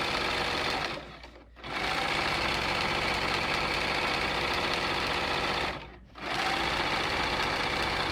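A sewing machine runs in steady, loud stitching bursts while sewing a burrito-technique pillowcase seam, stopping briefly twice before resuming its continuous whirring drone.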